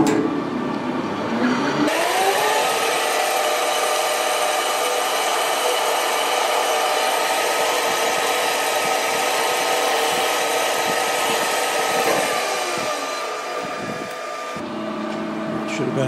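A Bridgeport milling machine takes a cut of a few thousandths, and its loud, steady grinding roar comes up after a couple of seconds, holds evenly, then winds down near the end.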